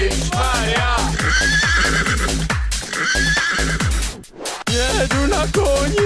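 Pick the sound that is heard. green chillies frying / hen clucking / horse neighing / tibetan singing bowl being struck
horse neighing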